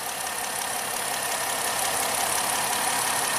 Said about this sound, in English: right now is the engine running smoothly? Right now it is. It's running fine, so let's let it roll